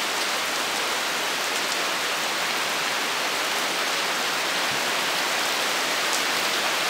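Steady rain falling outdoors in Allegany, a dense, even hiss of drops on surfaces that stays constant and fairly loud throughout, with no voices.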